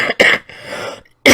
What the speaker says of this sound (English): I am so sorry I'm coughing like this.